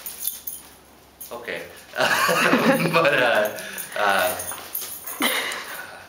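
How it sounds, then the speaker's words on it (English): A dog whimpers and yips excitedly off to one side of a garage, with high whining cries rising and falling over several seconds while someone talks close by. "My dog's going crazy over there."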